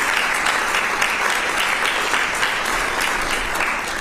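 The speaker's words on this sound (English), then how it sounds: "Give our students a round of applause." Audience applauding students at a budget bill signing ceremony, steady loud clapping from a crowd that holds evenly throughout.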